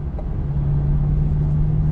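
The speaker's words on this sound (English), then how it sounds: "Oh, that engine note." A 2021 Chevrolet Corvette engine holds a steady, deep droning note at close range, loud and continuous with no voices over it.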